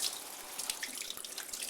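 Cold water runs steadily from a tap over nuno felt being rinsed, a soft continuous splashing hiss with faint drips, close by and without talk.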